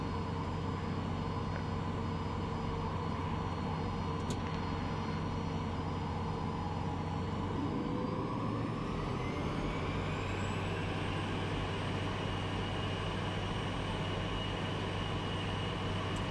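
A steady, loud jet engine roar from behind the cabin of a Cirrus SF50 Vision Jet in flight, droning continuously with a rising whine partway through.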